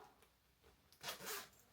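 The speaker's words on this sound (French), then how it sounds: "Et il y a une double fermeture éclair." A zipper, one of two on a jacket's double zip, pulled in a couple of quick, raspy strokes, fairly close and alone without talk.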